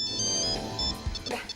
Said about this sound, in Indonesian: Lu angkat telepon lu